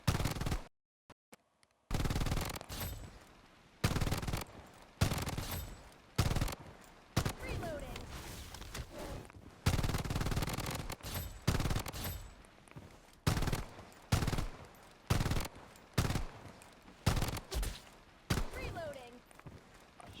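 Gunfire in the mobile shooter game Blood Strike: repeated loud bursts of automatic fire in short volleys with brief pauses between them, close and sharp, with a voice talking at times between the shots.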